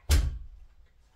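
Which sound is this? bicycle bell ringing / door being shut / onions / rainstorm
door being shut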